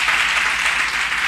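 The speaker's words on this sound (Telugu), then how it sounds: "ఒక మంచి పాట పాడినందుకు చప్పట్లు కొట్టండి సార్ ఆయనకి" Steady crowd applause for a singer in a Telugu Christian gathering, dense hand clapping sustained throughout without pause, fairly loud and close.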